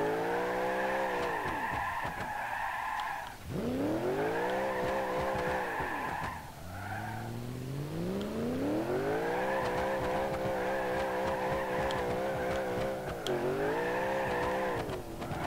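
Go-kart tyres squeal in long, wavering skids while cornering hard in the BeamNG.Drive driving game, loud and close, with brief breaks between slides over a steady engine drone.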